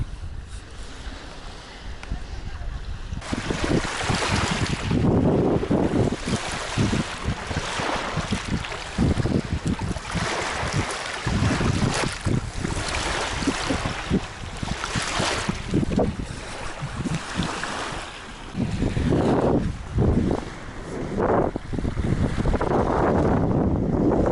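Strong wind roars and buffets the microphone outdoors by the Dnipro River, steady with rising gusts throughout.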